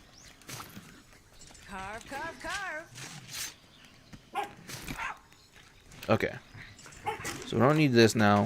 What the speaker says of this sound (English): if you hear real dogs barking, those are my dogs behind me